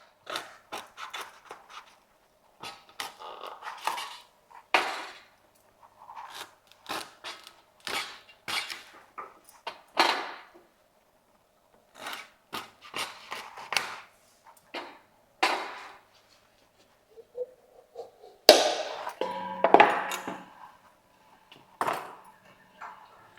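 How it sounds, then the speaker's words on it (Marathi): A whole dried coconut being cut into pieces: sharp, irregular cracking and scraping strokes, some in quick clusters, separated by short silences, with one louder, more sustained bout of cutting near the end; no talking. "सुक्या खोबऱ्याचा नारळ ना अख्खाच आहे, तो जरा कापून घेते"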